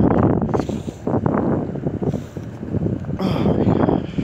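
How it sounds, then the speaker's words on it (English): Strong gusts of wind buffeting the microphone, a loud low rumbling roar that swells and dips in waves, with no talking. "Whoa, it's windy out."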